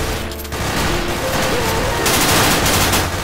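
Dense, continuous gunfire in a Counter-Strike: Source zombie escape match on a Minecraft-themed map, several weapons firing at once in a loud, overlapping barrage.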